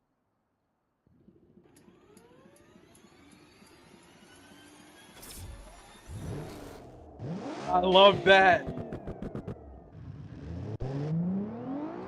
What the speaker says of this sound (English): this is one of my favorite starter sound. We made a DeLorean, but it's a GTE car